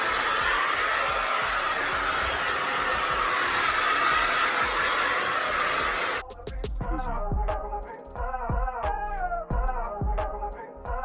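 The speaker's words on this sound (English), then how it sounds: "I'm using this Conair blow dryer." A loud, high-pitched Conair hair dryer on high heat and high speed roars steadily at close range for several seconds, then cuts off, leaving scattered clicks and handling noises.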